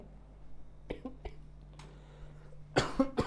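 A few short coughs close by, a couple of light ones early and a harsher burst near the end, with quiet room noise between.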